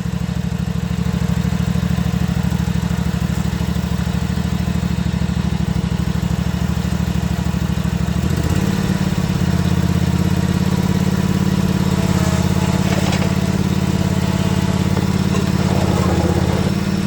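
An old John Deere engine running steadily at close range, a loud continuous droning hum that shifts slightly in tone partway through.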